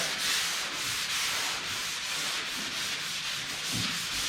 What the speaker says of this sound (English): I'm just knocking some of the overspray dust off.